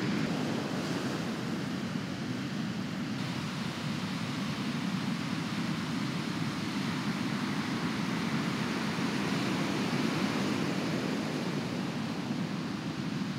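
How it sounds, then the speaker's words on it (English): Ocean surf at a remote beach on Kodiak, Alaska, on a stormy day, a steady, dense roar of breaking waves with wind noise that continues without a break and no talking. "these waves are pretty nice"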